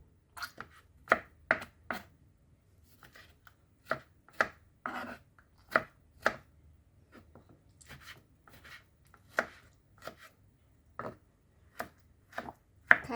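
A knife chops tomatoes into small cubes on a cutting board, giving sharp, separate close-up thuds at an uneven rhythm with quiet gaps between them.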